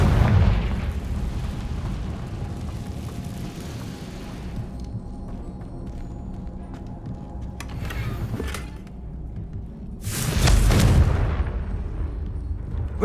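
Fire spell explosions in the video game Hogwarts Legacy: a steady rumbling bed of booms, then a louder burst near the end that swells and fades, with no talk.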